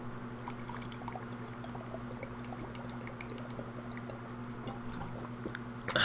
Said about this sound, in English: Sorry, I needed my water. Haven't been drinking a lot today, so I needed that.